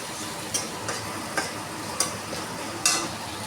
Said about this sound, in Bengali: পেঁয়াজ বাটাটা একটু হালকা লাল লাল করে ভাজা করব